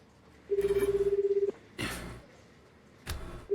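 Phone dialing in the visual novel game Chaos;Head: a steady beeping keypad tone for about a second, then two short bursts of electronic noise, heard alone with no talking.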